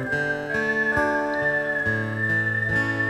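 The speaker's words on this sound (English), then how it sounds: "How do you keep a whistle for that long though?" A singer whistles a single steady note held for several seconds, clear and close, over a backing of rhythmic music during a song performance.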